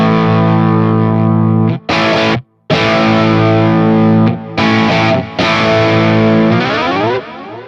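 Distorted electric guitar chords ring through an FAS A8 multi-effect pedal with a delay block engaged, loud and close, sustained strums broken by a few brief abrupt cutoffs before fading on the final chord.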